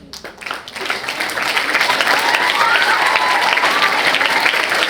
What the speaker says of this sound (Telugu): ఇంకొకసారి మనం క్లాప్స్ కొట్టుకుంటూ